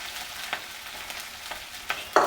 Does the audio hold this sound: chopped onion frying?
yes